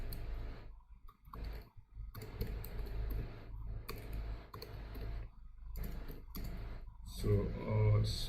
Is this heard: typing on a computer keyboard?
yes